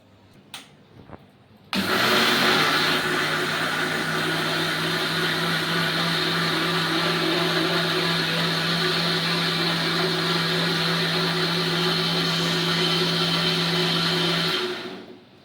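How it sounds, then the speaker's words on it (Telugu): An electric mixer grinder whirs loudly, grinding tomatoes with no added water; after a couple of faint knocks the motor starts abruptly, holds a steady high whine for about thirteen seconds, then cuts off. "మెత్తగా అయితే మిక్సీ పట్టేసుకుందాం"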